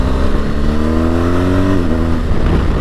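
A BMW R1250GS TE motorcycle of about 138 horsepower accelerates hard in Dynamic Pro mode, its loud, close engine note climbing steadily through the revs, then dipping at a gear change.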